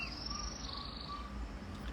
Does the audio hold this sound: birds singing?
yes